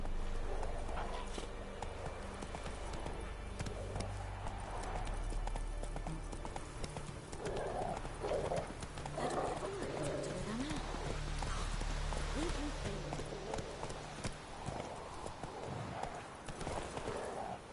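Roach the horse in The Witcher gallops with rapid, rhythmic hoofbeats, close and fairly loud over a low rumbling background, the pace holding steady throughout with a few louder thuds midway.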